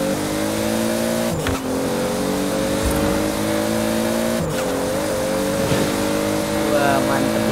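Supra race car in Forza Horizon accelerating at full throttle, loud steady engine drone through upshifts, with someone talking over it.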